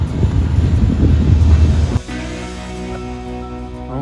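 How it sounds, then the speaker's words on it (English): A train runs past on a railway line on a direct link from Los Angeles to Chicago, with a loud, close rumbling roar mixed with wind. It cuts off halfway and gives way to a steady, tonal hum. "they got a train running on this line about every 10 minutes"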